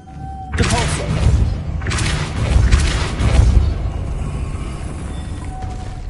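Depulso spell cast in Hogwarts Legacy, producing a series of loud booming thuds and mechanical crashes in bursts over about five seconds, with a voice speaking the incantation at the start.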